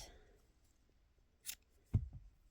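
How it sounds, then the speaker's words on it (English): Scissors are picked up and used to snip yarn while finishing a crocheted basket, with a quiet rustle, then a brief metallic click followed by a sharper close snip and a small clatter. "Let me get my scissors."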